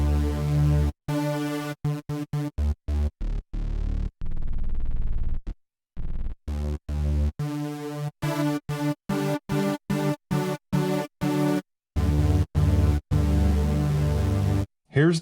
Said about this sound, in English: there's an octave selection for one of the oscillators